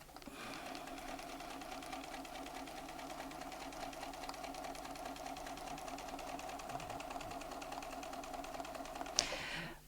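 A Bernina sewing machine stitches ruler work in a rapid, steady mechanical rhythm, running continuously up close and stopping with a brief clunk near the end.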